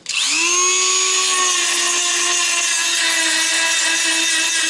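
A power tool strips a Citroën Traction 11 car body panel down to bare metal, a loud, steady high-pitched whine that spins up at the start and holds a constant tone throughout, with no voices.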